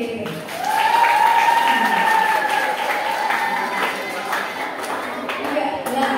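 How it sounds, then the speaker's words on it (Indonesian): Students at an Indonesian school assembly clap together in a sustained burst of applause, loud and dense for about six seconds, with voices and cheers mixed into the crowd noise. "Mana tepuk tangannya BDP?"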